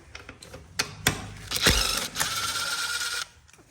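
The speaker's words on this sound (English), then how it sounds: "We're going to remove these 2 10 mils right here." A ratchet works two 10 mm bolts loose on a 2023 Kawasaki ZX6R, with quick close clicking bursts and a longer stretch of rapid ratcheting, no speech.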